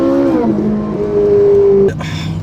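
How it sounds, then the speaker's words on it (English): A Ferrari V8 revving after a downshift, a loud close engine drone with a rising then steady pitch that cuts off abruptly near the end, followed by a lower idle rumble. "I can drop a couple gears and you immediately definitely sounds like a Ferrari"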